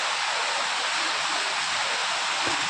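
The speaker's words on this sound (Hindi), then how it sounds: "कैसे पानी बह रहा है, पानी की आवाज़ आ ही रही होगी आप लोगों के लिए" Rainwater pours and rushes steadily outside a dark balcony during a heavy storm, a dense, continuous hiss of flowing water close by with no pauses.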